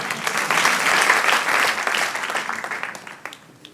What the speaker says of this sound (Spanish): Dar un aplauso al Señor.